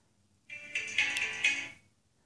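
A phone ringtone, set off by pressing the button on a Mynt keychain phone finder, plays a short melodic chime of a few bright tones that swell and fade in about a second and a half, alone in a quiet room.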